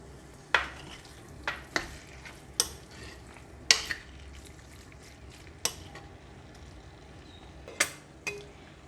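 Carrot, pepper and minced pork stirred in a clay pot over a soft background sizzle, with about a dozen sharp utensil clinks and scrapes spaced irregularly, close and fairly quiet.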